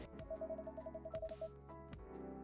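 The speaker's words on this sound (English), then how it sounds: "I believe your phone's ringing." A phone rings in the cafe game Coffee Talk 2, a quick electronic trill of rapid beeps repeated twice, with soft background music, no voices.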